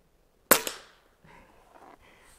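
A single sharp crack from an Air Venturi Avenger .25 air rifle firing, close and loud, followed by a quick echo and then faint background noise.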